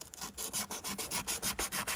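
Hand sanding of a lawn mower blade's mounting surfaces, with steady back-and-forth abrasive rubbing strokes in a regular rhythm, close and fairly loud, about ten strokes with no talk.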